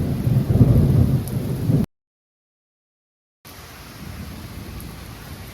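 Rumbling thunder from cloud-to-ground lightning in a severe thunderstorm with gusty winds, a loud low roll that cuts out abruptly, then returns as a quieter steady wash of rain and wind.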